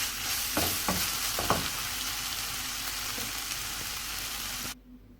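Spicy vegetable spring roll filling sizzles in a pan while a spatula stirs it, with a few sharp scrapes and clinks early on over a steady close hiss that cuts off abruptly near the end.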